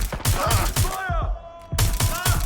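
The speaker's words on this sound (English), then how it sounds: "I'm getting shot at here." Gunfire in the game Watch Dogs: Legion comes in two dense bursts of sharp cracks near the start and again near the end, with a quieter gap between them carrying brief tonal game sounds.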